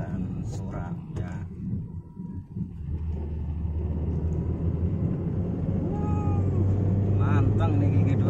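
A Honda Brio climbs a steep hill in second gear near 3000 rpm, with the air conditioning on and three people aboard: a steady low engine drone that settles in and holds. Voices talk over it inside the cabin.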